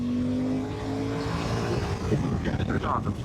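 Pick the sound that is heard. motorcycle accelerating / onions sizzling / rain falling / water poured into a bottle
motorcycle accelerating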